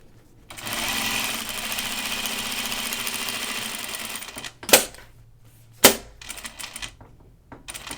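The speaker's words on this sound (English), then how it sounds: "I think I'm going to stitch down the sides" A sewing machine runs in one long, steady stretch of stitching down the sides of a belt loop on a kimono or shirt dress, followed by two sharp clacks and faint handling noise.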